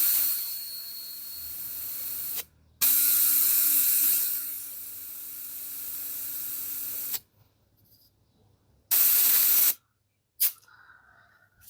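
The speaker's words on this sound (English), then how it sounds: "So I'll keep it hooked in and I'll release the pressure." Compressed air hisses out through the release valve of a tire pressure gauge in several bursts: one long steady spray, a second shorter burst after a pause, then a brief final puff, all loud and close with no talking.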